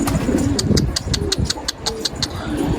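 Several colourful pigeons coo and flutter on a rooftop loft, with repeated short bright bursts over steady low outdoor rumble and a faint passing engine.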